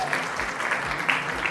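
Audience applause at the trailer launch of the Marathi film Phullwanti, a brief steady patter of many hands clapping at moderate loudness, with no pauses.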